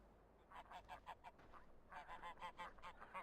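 Geese in Farming Simulator 15 honk in two rapid bursts of many calls, a first cluster and then a louder, denser one, moderately near with no talking.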